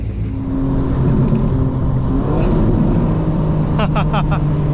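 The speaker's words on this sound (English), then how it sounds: "That was a 3 Series, it's coming by." A BMW 3 Series car engine rumbles steadily as it passes close by, low and continuous, with a brief higher whine near the end.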